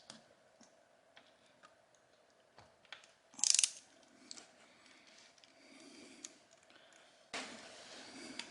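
A ratchet fitted with a 10 mm socket loosens a bolt on an Aprilia Tuono V4 motorcycle, giving faint, close clicking in short, irregular runs with one sharper burst partway through.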